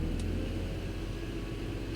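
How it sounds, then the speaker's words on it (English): A BMW X5 engine with a misfire drones steadily at a raised rev, a continuous low rumble heard close up with no voices. "I'll rev it up a little bit"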